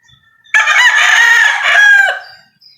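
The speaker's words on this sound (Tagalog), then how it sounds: "Isang tilaok, baby, man." A single rooster crow rings out loud and close, one long drawn-out call of about one and a half seconds with a rising then falling shape, alone with no talk over it.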